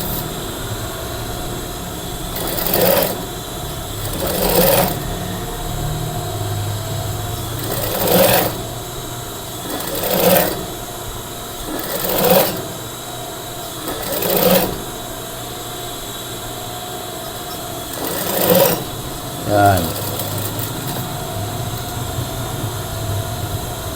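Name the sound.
sewing machine stitching a collar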